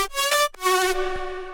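A bright, buzzy synth lead from an FL Studio bass house remake plays with no cutoff filter automation, sounding a few short sustained notes with a brief gap between them, loud and unaccompanied.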